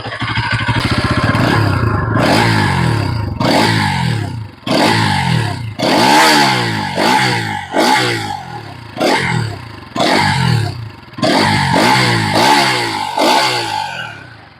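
A Bajaj NS200 motorcycle's exhaust barks through about ten sharp revs close up, each rising roar falling back between throttle blips, loud and with no voices.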